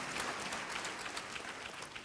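A church audience clapping for Jesus Christ, a fast crackling round of many hands that carries on evenly with no talk.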